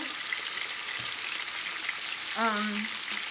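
Chili lime chicken frying in a pan, giving a steady soft sizzle throughout with a brief tonal clink or scrape of cookware near the end.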